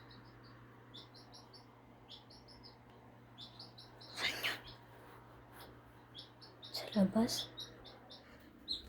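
A baby chick gives thin, high, repeated peeps at a steady pace through the clip, fairly faint against a low hum, while a person talks nearby.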